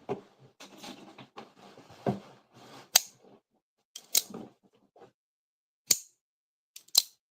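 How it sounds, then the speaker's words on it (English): A knife's shark lock mechanism clicks sharply and close, a series of crisp isolated snaps spaced a second or so apart with light fiddling sounds between them. "The acoustics of a shark lock."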